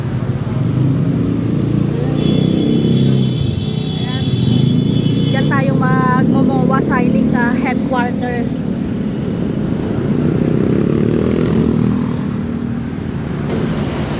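Dense road traffic with many cars and motorcycles passing near a busy street crossing, a steady loud engine roar with horn-like tones, while someone talks over it.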